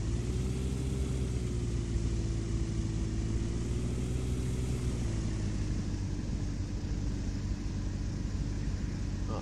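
A VSKY Labs A22LS Foxbat light aircraft's engine drones steadily while taxiing in a flight simulator, a constant close rumble with a slight pitch shift partway through.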